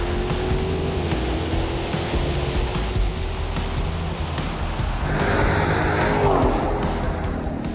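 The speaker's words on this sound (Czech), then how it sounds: "Tohle ty výfuky má John Black dobře upravený, moc příjemný, dobrá práce." Steady, close engine drone and exhaust rumble from a Dodge Challenger or Charger with a modified exhaust, holding a constant level with a slight swell near the end and no talking.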